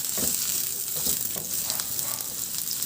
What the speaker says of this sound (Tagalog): Iprito ko na rin yung carrots.